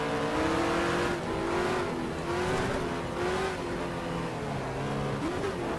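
A race car in GTR 2 runs steady laps on a short track, its engine a loud continuous drone with pitch shifting up and down through gear changes and throttle, close and alone.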